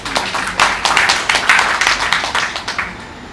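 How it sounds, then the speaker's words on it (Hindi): An audience of lawyers claps together at an Ambedkar Jayanti lecture, a loud, close rhythmic burst of many hands striking in quick pulses that gradually thin out, with no talking over it. "इसलिए पहले अपने लिए ताली बजाइए"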